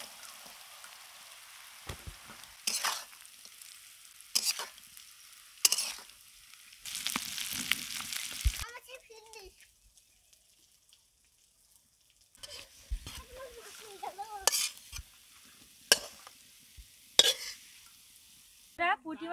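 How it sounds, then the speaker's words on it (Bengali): Small puti fish fry in a pan with onion and chili, with scattered scraping stirs over a quiet sizzle and near-silent gaps between them. "এবার পুঁটি মাছগুলো দিয়ে দেব"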